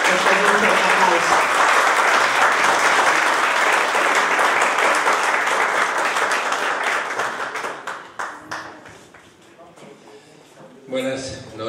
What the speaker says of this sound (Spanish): Después de un fuerte aplauso